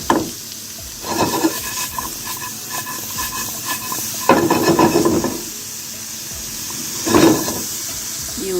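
Apples with cinnamon and salt are stirred in a pot, giving several separate scraping, sizzling swishes spaced a few seconds apart over a quiet hiss.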